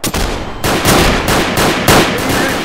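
Rapid gunfire in a 1950s New York roleplay video game, dense volleys of loud overlapping shots running continuously with bursts at regular intervals, no talk over it.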